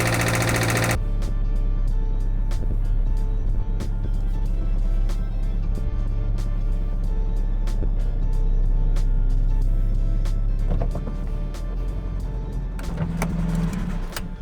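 A car engine idles roughly and loudly, with an uneven, shaky rumble and rapid ticking, steady throughout with no talking.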